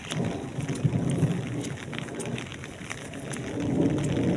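Heavy rain falling steadily since before dawn over farm fields, a dense continuous hiss with low rumbling underneath, fairly close and even throughout, no voices.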